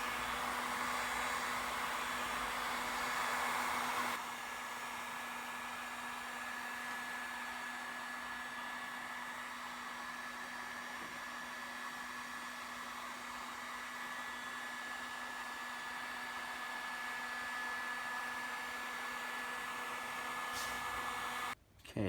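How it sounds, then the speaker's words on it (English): A heat gun set to high blows with a steady, close, hair-dryer-like whoosh while softening weather stripping adhesive. The airflow runs loudly for about four seconds, drops to a slightly lower hum for the rest, and ends with a short click. "put it on the high heat, and we're just going to go up and down and just really get that adhesive underneath nice and soft"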